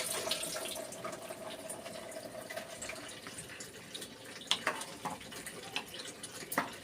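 Water poured into a cooking pot while preparing a liver dish in a home kitchen, a steady running wash with faint clinks and drips, fairly close and moderately quiet, ending in a few sharper splashy taps.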